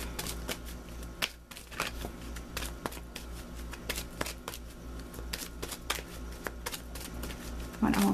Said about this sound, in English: I'm going to pull you an additional guidance card